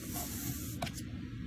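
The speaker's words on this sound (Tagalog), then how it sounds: "Ayan, spray." An aerosol spray can gives off a steady close hiss for about a second and a half, with a brief louder burst partway through and no talking.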